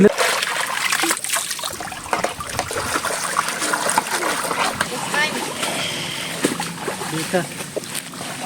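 Laundry being rinsed by hand in a basin, with water splashing, sloshing and trickling steadily and close by throughout, while voices talk over it.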